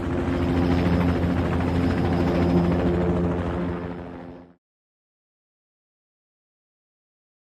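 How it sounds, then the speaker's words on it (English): Rescue helicopter carrying a patient to the hospital with paramedics aboard: a loud, steady rotor and engine drone with a thumping low pulse, heard alone for about four and a half seconds before it cuts abruptly to silence. "The helicopter sounds like this."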